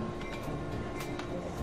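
Steady rumbling rail noise of a train at a station in the video game Irony Curtain, continuous and fairly loud for under two seconds with no voices.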